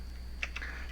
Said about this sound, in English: Now I'm going to type in std 2 colons, type in cout space